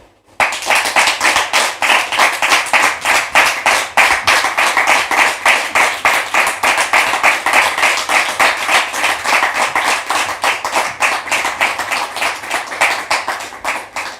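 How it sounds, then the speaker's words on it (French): An audience at a French talk-show taping claps in a loud, fast, rhythmic unison beat, a dense run of sharp claps that starts abruptly and carries on steadily for over thirteen seconds with no talking. "Public, merci de la recevoir sous vos applaudissements, s'il vous plaît."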